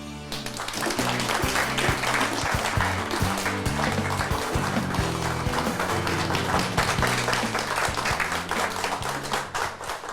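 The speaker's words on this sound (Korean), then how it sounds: "박수로 환영해 주시기 바랍니다." Audience applause welcoming a guest professor at a televised Christian talk concert, with steady, dense clapping from a studio crowd lasting about ten seconds without a break.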